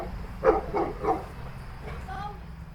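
Several dogs barking in a burst of three quick barks, then a few fainter yelps and whines, moderately distant over a low background rumble.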